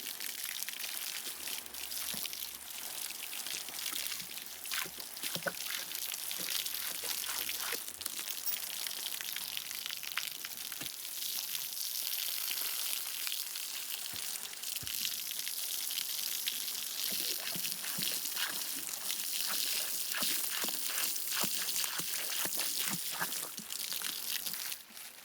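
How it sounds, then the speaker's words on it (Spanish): Water poured over a horse, splashing and spattering steadily in a continuous broadband wash, close and fairly loud with no talk. "Le encanta ponerse de culo para que le echemos agua."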